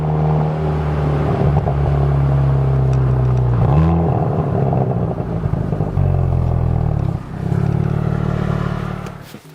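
Hyundai i30N engine revving and accelerating from inside the car, loud and continuous, with audible dips and pitch drops at several gear changes, no talking.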